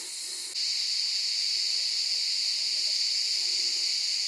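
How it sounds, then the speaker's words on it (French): Cicadas fill the air among the ancient ruins of Priene in Ionia, Turkey. The buzzing is a dense, steady, high-pitched drone that swells a notch after a moment and then holds constant. "Ici, il n'y a pas de vent, ce sont les cigales qui font du bruit."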